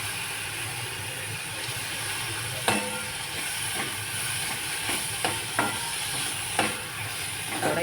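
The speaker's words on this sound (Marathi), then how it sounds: "आता त्याच्यावरून कोबी, धुतलेला कोबी टाकते।" Washed cabbage sizzles and fries in a black kadhai, a continuous hiss and crackle punctuated by sharp scraping clinks of stirring, close up with no talking.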